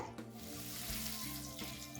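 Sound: ginger chilli paste sautéing in oil for dosa

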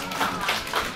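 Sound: applause

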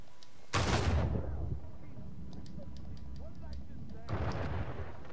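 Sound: explosion in video game Uncharted 4

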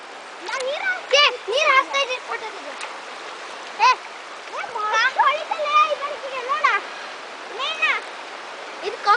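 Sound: Aghanashini river stream flowing

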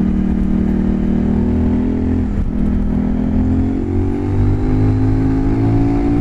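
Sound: CF Moto 800 NK motorcycle accelerating

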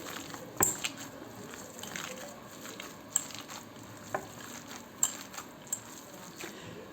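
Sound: kneading minced meat mixture by hand

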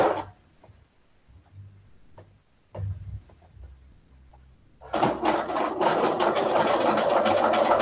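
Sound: sewing machine stitching fabric

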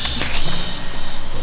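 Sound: cheap toy remote control helicopter flying

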